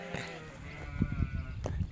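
Sheep bleat on a farm in Maharashtra, one sustained bleat early, then several short overlapping calls nearby amid shuffling and background voices of people talking.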